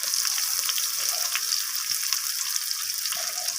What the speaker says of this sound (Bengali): তো পেঁয়াজটাকে আমি ফোড়নের সাথে একটু লালচে রং ধরা পর্যন্ত ভেজে নিচ্ছি।